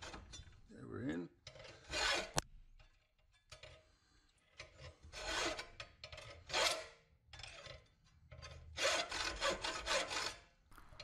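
A jeweler's saw cuts through a metal ring held on a ring mandrel, giving a soft, close rasping stroke that comes in uneven bursts with brief pauses between them, with no talking.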